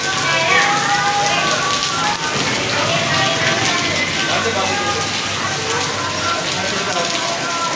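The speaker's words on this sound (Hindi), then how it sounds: "आज हमारे कराची में वापस से बारिश हो रही है, बहुत तेज़ बारिश हो रही है।" Heavy rain pours down in Karachi, a steady dense hiss of drops drumming on surfaces, loud and continuous, with someone talking over it.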